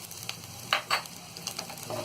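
Turmeric powder fries in hot oil in a pan over medium gas, a quiet crackling sizzle with a few brief louder bursts of stirring or spattering.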